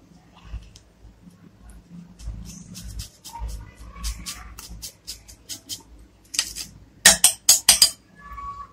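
A cheese cube is grated into a potato mixture. Quiet clinks and ticks come first, then a quick run of four or five loud rasping strokes near the end.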